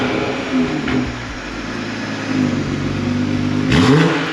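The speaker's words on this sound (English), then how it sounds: "I'll give it a little rev." A BMW G20 M340i engine with its exhaust valves open idles with a deep rumble, then a revving blip rises near the end over a steady low drone, heard close and fairly loud.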